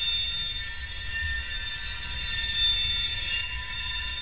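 Union Pacific train rolling past just outside, a steady rumble with high metallic ringing and squealing from the wheels, continuous and fairly loud throughout.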